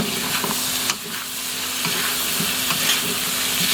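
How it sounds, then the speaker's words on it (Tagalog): Chicken adobo with onion stirred in a sizzling pan, a continuous close frying hiss with repeated utensil scrapes and knocks against the pan, no speech. "Ngayon, haluin na natin."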